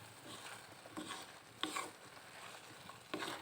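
Fish being stirred into seasoned rice in a pan, with soft scraping strokes and light sizzling that swell at roughly even intervals, close and fairly quiet.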